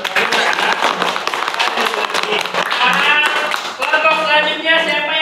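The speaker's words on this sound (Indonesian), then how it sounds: "tepuk tangan untuk kelompok satu" Classroom students applaud a group: dense, loud clapping that runs throughout, with voices mixed in.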